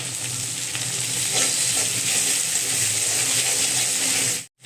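Onion frying in hot oil with Bengali five-spice tempering, a loud continuous sizzle with stirring scrapes throughout, cutting off abruptly at the end.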